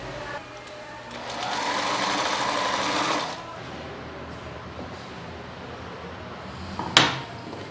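A sewing machine stitches pouches made from milk cartons for an improvised toiletry bag, a steady rapid whirr for about two seconds before stopping, followed by quiet room sound and a single sharp clack.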